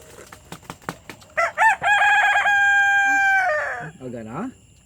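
A few sharp knocks, then a rooster lets out a full, loud crow that stretches out for a couple of seconds before trailing into a lower squawk.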